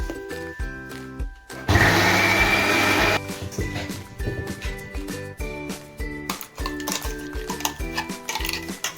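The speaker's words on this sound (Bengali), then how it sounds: "পান্তা ভাতটা পেস্ট করে নিলাম" An electric blender grinds soaked leftover rice into a paste, a loud dense whir lasting about a second and a half, followed by clattering kitchen sounds and tapping utensils.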